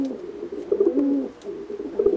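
Pigeons being prepared for a Kyiv pigeon show coo close by, a few soft rolling coos in succession with short pauses, with no talk.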